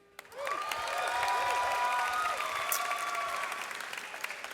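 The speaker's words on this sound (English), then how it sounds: "remain standing for a collective round of applause" An audience applauds at the 2019 Berkeley Engineering baccalaureate commencement, clapping swelling quickly into a sustained, even round that slowly eases off, with faint crowd murmur beneath.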